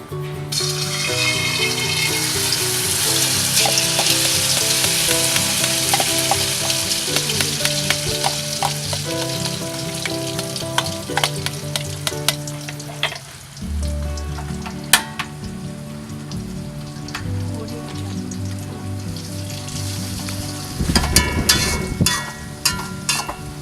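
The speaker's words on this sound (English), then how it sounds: "after the oil is hot, put the noodle egg into the pan" Egg noodles frying in hot oil in a pan make a loud, continuous sizzle that runs throughout, with brief surges of crackling, heard up close with no voices.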